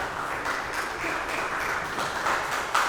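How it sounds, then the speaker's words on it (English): An audience at a school alumni weekend gathering applauds in a steady, moderate patter of many hands, continuing without pause for a few seconds. "Cody deserves that applause,"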